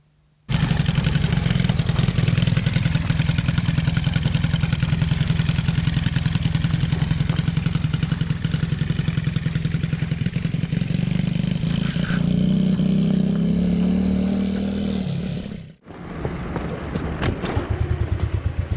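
A quad bike (ATV) engine runs loud and close at a steady, rough idle, its tone sagging near the end before cutting out abruptly, then briefly sputtering back with clatter.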